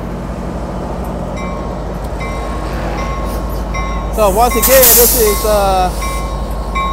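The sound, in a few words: Amtrak Capital Corridor train 737 departing Richmond station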